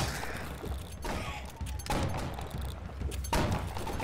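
Gunfire in a shooter video game: several dense bursts of shots and thumps crowd together in a loud, continuous mix, with heavy booms landing near the start, the middle and the end.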